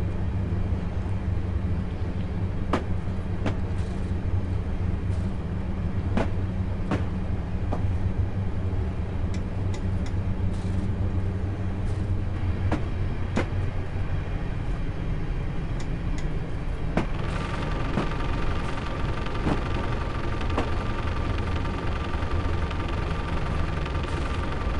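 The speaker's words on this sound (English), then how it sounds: "The train has been at the platform since our task started." An idle train sits at a station platform in Train Simulator 2013, its low engine rumble droning steadily with occasional sharp clicks and a shift in tone partway through, no voices.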